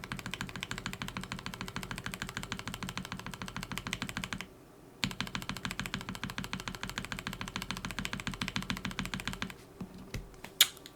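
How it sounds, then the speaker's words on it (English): NovelKeys Cream mechanical keyboard switches, lubed and fitted with Kibo films, clatter in rapid continuous close-up typing, break for a short pause, then resume, with a few final isolated key presses. "here is a lubed and filmed Novel Keys cream with a Kibo film"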